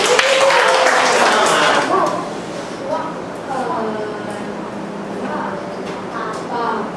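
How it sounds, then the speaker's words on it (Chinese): Pupils in a primary school classroom give a round of applause for a classmate, a dense burst of clapping for about two seconds, followed by a teacher talking over the quieter room. "给魏丽安掌声鼓励"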